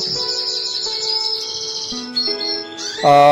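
A male canary sings a continuous rapid trilling song of bright chirps and warbles, close and loud, rising in intensity toward the end.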